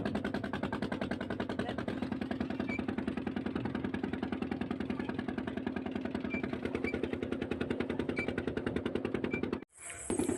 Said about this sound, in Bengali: দাদা এখন কল থেকে জল বার করে দিচ্ছে